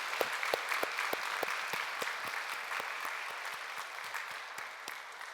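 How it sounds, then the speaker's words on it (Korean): A church congregation applauding during a worship service, a steady wash of many hands clapping with individual sharp claps standing out nearby, moderately loud and sustained. "우리 서로에게 박수 한번 할까요?"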